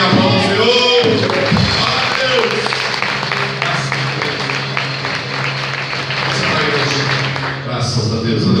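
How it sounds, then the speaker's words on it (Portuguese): A church congregation applauding during an evening service: sustained rhythmic clapping from many people, fairly loud and close, mixed with voices and some sung or shouted sounds at the start and end. "Aplauda o Senhor."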